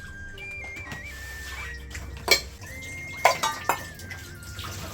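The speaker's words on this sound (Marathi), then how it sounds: "आता मी पटपट भांडे घासून घेते" Dishes clatter and clink against each other in a few sharp bursts, with running water and faint kitchen rattles between them.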